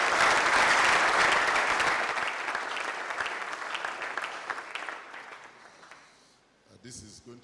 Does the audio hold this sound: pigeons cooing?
no